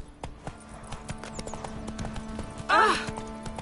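Roach, the horse in a video game, clip-clops along in quick galloping hoofbeats under a steady hum of game sound, ending in a louder burst where the horse whinnies.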